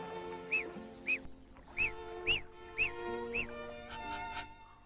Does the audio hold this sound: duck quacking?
yes